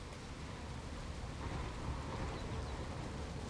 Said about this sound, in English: nice little thunderstorms